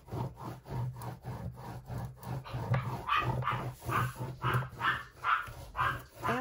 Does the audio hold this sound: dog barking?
yes